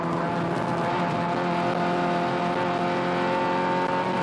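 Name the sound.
touring race car accelerating on the straight, 1987 Willhire 24 Hour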